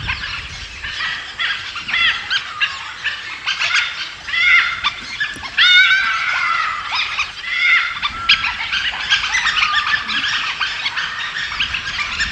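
Two packs of wild dholes clash in the Nilgiri mountains, an eight-dog pack against eighteen adults with pups: a dense, continuous din of yelps, whines and shrill whistling calls, loud and close throughout.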